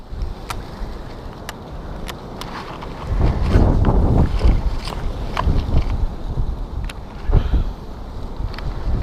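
Strong wind buffeting the microphone out on a lake during bass fishing, a loud low rumble that swells midway, with small clicks and knocks over the roar.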